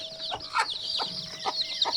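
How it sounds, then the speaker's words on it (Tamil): Chickens and young chicks in a brooding setup: steady high-pitched chick peeping fills the background while several louder hen clucks break through at short intervals, all nearby. "எல்லா கோழி குஞ்சுலாம் இருக்குது."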